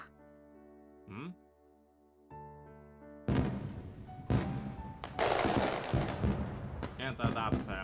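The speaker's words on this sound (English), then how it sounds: "And that's a firework." Fireworks in the visual novel Irotoridori no Sekai: after a quiet stretch of soft game music, a loud run of bursts, crackles and booms sets in and keeps going in overlapping waves until the end.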